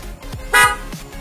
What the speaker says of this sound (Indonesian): kita sudah selesai pemasangan klakson Boss Rider di mobil Honda Brio yang All New Brio 2020